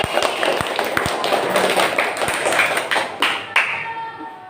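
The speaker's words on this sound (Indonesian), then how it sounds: "Yuk kita kasih aplaus buat Mas Lutfi" Students in a classroom give a short round of clapping for a classmate, many hands patting at once in a lively wash, while a teacher's voice carries over it.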